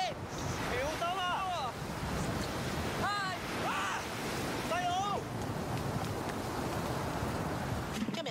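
Wind roars and waves surge at a Hong Kong seafront under typhoon signal No. 8, a continuous rushing wash, with a few bird-like squeals cutting through the blustery noise.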